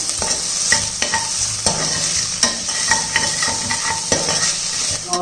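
Onions sizzle and fry in a pan while a utensil stirs and scrapes repeatedly, with occasional clinks against the metal.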